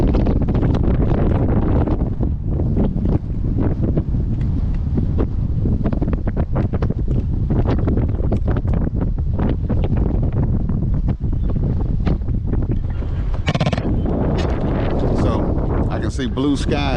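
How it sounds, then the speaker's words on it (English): Wind gusting over a lake during a fishing trip as weather turns dark and drizzly, a steady loud rushing and buffeting against the microphone throughout, with a sharper gust near the end. "It ain't raining, but it's getting windy."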